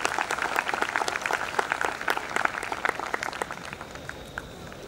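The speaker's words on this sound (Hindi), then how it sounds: "आप सर्वप्रथम सभी शिक्षक गणों के लिए जोरदार तालियों के साथ उनका अभिवादन करें" An audience at a school's annual kindergarten function applauds the teachers, with dense, steady clapping that fills the clip and tapers slightly toward the end.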